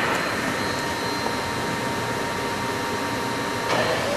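A Topwell TW-50 CNC vertical machining center spindle spins steadily, a constant high whine and airy mechanical hum with a faint tonal line holding steady throughout.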